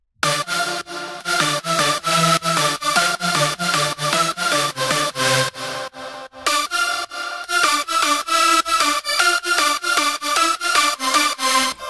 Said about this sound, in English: And then we have this second lead, third and fourth, and they all sound like this.